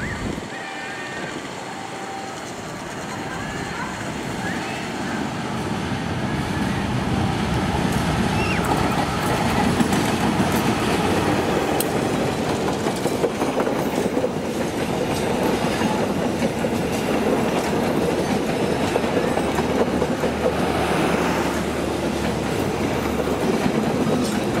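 The Tawang Jaya 309A passenger train rolls slowly into Karawang station, with a loud continuous rumble and rattle of the carriages and faint clickety-clack of wheels, heard close up throughout.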